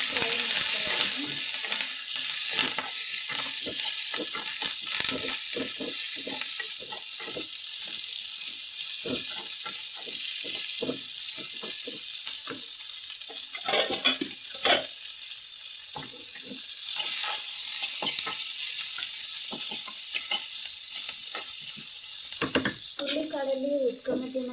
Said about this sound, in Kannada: ಈರುಳ್ಳಿ, ಕರಿಬೇವು ಹಾಗೆ ಬೆಳ್ಳುಳ್ಳಿ ಎಲ್ಲ ಹಾಕಿ ಫ್ರೈ ಮಾಡ್ತಾಯಿದ್ದೀನಿ